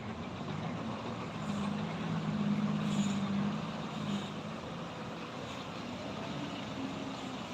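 A Hino 500 Euro 4 truck engine drones steadily on the road with a humming low tone, moderately loud and continuous, with no talk.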